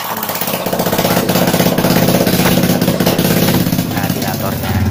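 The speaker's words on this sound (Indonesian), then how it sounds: "di sini mesin sudah nyala dan kita nyatakan sudah normal dan tidak keluar asap lagi" A freshly rebuilt Yamaha Jupiter MX motorcycle engine runs close by at a steady, rough idle, a loud continuous throbbing rattle with no pauses.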